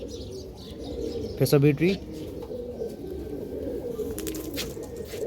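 Pigeons coo and chirp close by in a loft during a bird sale, a brief louder burst of calls standing out over steady low cooing, with someone speaking briefly.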